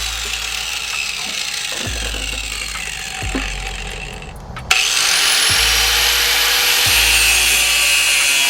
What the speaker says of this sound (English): So I'm gonna cut that metal that long